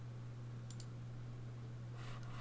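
A pair of quick mouse clicks on an OK button, close and crisp, over a quiet room with a steady low electrical hum.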